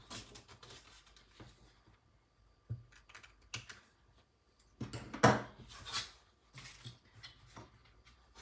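A bone folder presses and creases paper folds for a photo frame card, giving a series of short, dry scraping and tapping strokes at close range, irregular with quiet gaps, with no talk.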